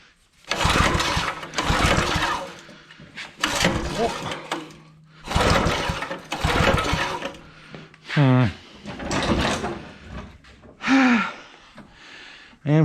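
Someone repeatedly pulls the recoil starter on a Master-Till tiller engine, giving a series of loud bursts that sputter and briefly catch, with a rising and falling engine whine near the end and people talking in between.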